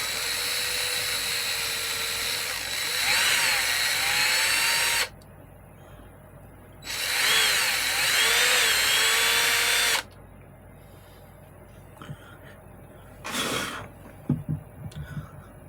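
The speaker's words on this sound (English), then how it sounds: "Now I'm going to drill this through" A power drill whines in two long bursts of about three seconds each, separated by quiet, followed by a brief third spin and a few clunks.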